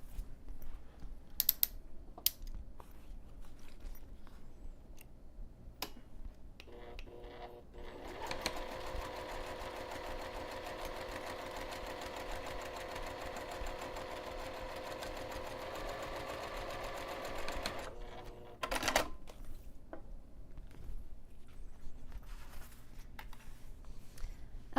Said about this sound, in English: I'm going to take this over to the sewing machine, and I'm going to top stitch this lower edge of this binding piece